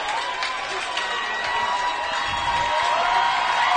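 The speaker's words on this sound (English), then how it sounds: "some other Jefferson players are over here getting the crowd into it" Crowd in the stands at a high school football game between Jefferson and Spring Mills, a steady, broad wash of cheering and shouting that swells slightly, heard from a distance without clear individual voices.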